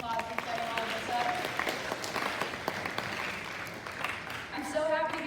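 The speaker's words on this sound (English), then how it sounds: "So let's just give Coach Drury one more round of applause for setting all of this up" At a hometown sports event honoring a coach, a crowd applauds steadily and fairly loudly, with cheering voices rising through the clapping.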